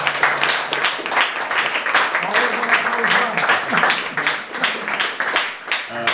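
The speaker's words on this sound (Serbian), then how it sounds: "Mislim da Bora prvo zaslužuje jedan aplauz." An audience at a flute academy event honouring flute master Bora Dugić applauds, and the dense clapping fills the room without a break for several seconds while voices sit underneath.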